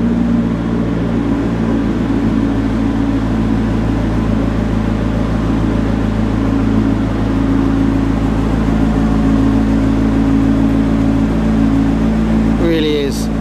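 A brand-new McLaren 650S Spider with carbon blades runs its engine just after its first start-up, a loud, steady, close idle that holds an even rumbling drone throughout.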